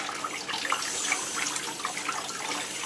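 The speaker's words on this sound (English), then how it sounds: "Gonna rinse off this knife so that I can use it more than once." Running water from a kitchen tap splashes steadily over a knife being rinsed in the sink, a continuous moderate hiss with small irregular spatters and no voices.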